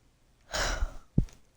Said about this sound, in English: talking about it made me yawn again